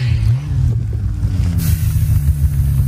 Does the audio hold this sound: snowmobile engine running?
yes